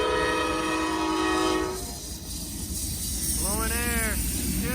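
Freight train locomotives with a lead engine sounding its multi-tone horn in a long loud blast, then the low rumble of the engines passing, with a brief chirp of another horn or whistle near the end.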